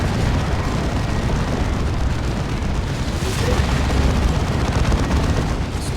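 Rocket strike explosions in the Warhammer 40,000 strategy game Dawn of War 2, a dense, continuous rumble of booms and blasts during a 3v3 battle between Space Marines and Orks, loud and sustained throughout.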